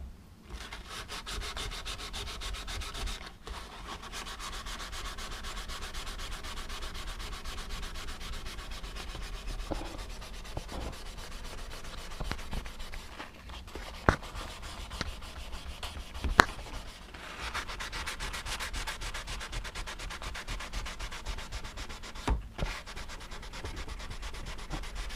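Sandpaper wrapped around a sponge rubbing by hand along the bevel of a forged knife blade, a steady close scratching that runs continuously in even back-and-forth strokes, with a few sharp clicks scattered through.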